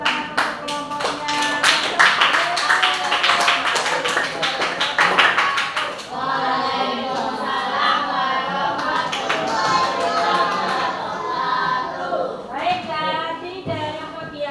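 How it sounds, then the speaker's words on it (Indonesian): Schoolchildren in a classroom clap together for a student group, brisk rhythmic clapping for several seconds that gives way to children's voices chattering and singing together, with a few scattered claps later. "berikan tepuk tangan untuk kelompoknya"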